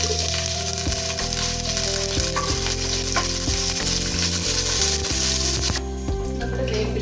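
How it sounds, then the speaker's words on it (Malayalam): Green chilies and curry leaves fry in hot oil in a pan, a loud, continuous sizzle and crackle close by with occasional stirring, heard alone without talk. "അതിലേക്ക് കുറച്ച് പച്ചമുളക്, വേപ്പില അതൊന്ന് വറുത്ത് കോരി മാറ്റി വെക്കണം"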